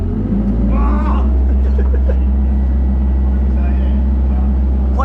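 Deep, steady rumble from a Ford XR6 Turbo engine fitted with a new exhaust and boost control, a loud close idle with some raised revs early on and brief clatter over the drone.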